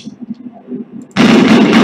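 Gunshot in the video game Half-Life: a sudden loud blast that bursts in after a quiet stretch and rings on as a dense roar to the end.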